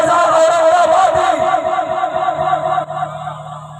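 A large crowd at an Urs religious gathering roars a loud, sustained collective shout in reply to the Nara-e-Takbir call, the massed voices filling the whole clip before tapering off slightly near the end.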